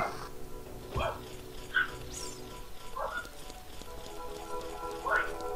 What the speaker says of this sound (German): Ignoriert einfach das Bellen im Hintergrund.